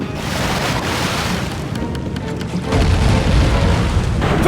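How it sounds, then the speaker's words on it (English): Thunder cannons firing in the video game Sly 3: Honor Among Thieves, a sustained heavy roar of booming blasts that deepens and grows louder toward the end, with no talking over it. "Thunder cannons!"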